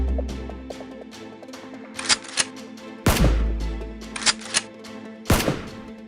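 A toy Nerf gun is test-fired outdoors on a street, with a few sharp loud bursts and mechanical clacks over busy clicking and rattling, and no talk.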